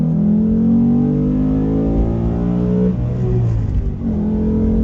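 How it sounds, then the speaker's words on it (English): A loud, close 2018 Ford Mustang GT V8 with active exhaust revs with a deep, throaty exhaust note, the pitch rising and falling as the throttle changes, with no talking. "It's super loud this year with an active exhaust option."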